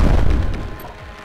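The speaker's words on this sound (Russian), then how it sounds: "Какие-то взрывы, и после этого какой-то беспредел." Explosions in Lobotomy Corporation: a heavy low boom at the start that rumbles and fades over about a second, followed by a brief high tone.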